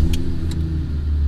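A BMW Z1 engine turns over and settles into a steady low running rumble, close by.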